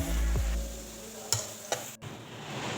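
Popcorn frying over a low flame gives a soft steady sizzle, broken by a few sharp scraping stirs in the pan, close and moderately quiet.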